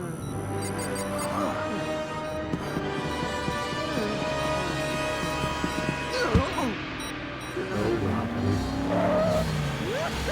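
Motorcycle revving and skidding in Lego Batman near the Botanic Gardens, its engine drone steady throughout with tire squeals and small crashes scattered over it, loud and close.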